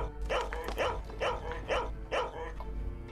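A guarding dog puppet in PuppetShow: Lost Town barks repeatedly, about five evenly spaced loud barks close by over a low background hum.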